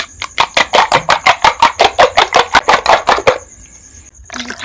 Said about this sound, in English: I'll beat it up now.